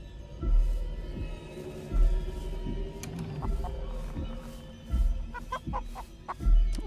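A video game chicken clucks in short repeated bursts over low background noise and faint electronic tones in a horror game.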